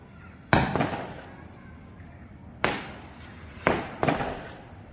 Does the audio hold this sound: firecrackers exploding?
yes